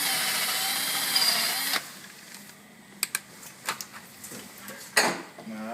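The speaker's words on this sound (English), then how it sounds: "Make sure you go back and forth with the bit a few times." A drill bit run back and forth through a damaged thread hole: a steady high whine for under two seconds, then stops and scattered close metallic clicks and scrapes, with no talk.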